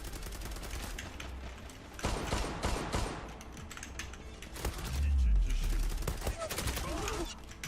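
Pistol gunfire in the online shooter Zula, with rapid bursts of close shots and mechanical clicks and clatter in the game, while a player talks intermittently over the action.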